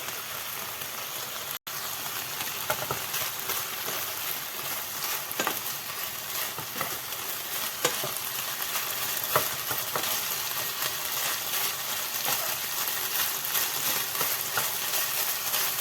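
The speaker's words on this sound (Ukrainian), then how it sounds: "Обсмажувати треба прямо до готовності." Chicken pieces sizzle and crackle steadily as they fry in a hot pan, a dense, close hiss with scattered pops and occasional stirring, loud and continuous with no voices.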